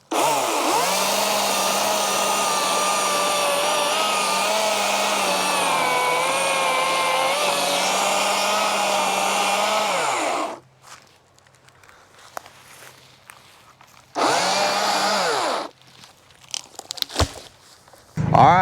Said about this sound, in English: it'll be a good initial test for this stump grinder